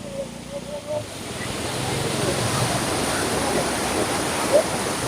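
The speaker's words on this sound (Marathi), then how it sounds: "हे पाणी खाली अजून एका धबधब्यात रूपांतर होतं" A waterfall roars steadily nearby in a constant wash of rushing water, with a brief voice near the start; Ekiv waterfall near Satara, India, where the water drops into another fall below.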